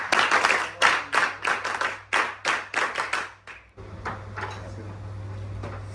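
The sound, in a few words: clapping, NCC clap by cadets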